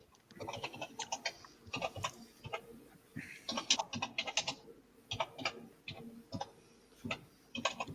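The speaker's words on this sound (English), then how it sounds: "ancient keyboard clicking away. That sounds like a fucking typewriter, doesn't it?" Rapid, irregular clicking of an old computer keyboard, bursts of sharp taps with brief pauses, close and fairly quiet.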